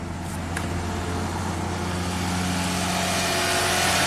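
A Lexus engine idles steadily and smoothly after a timing belt replacement, a constant close-up hum with a low, even rumble and no talking.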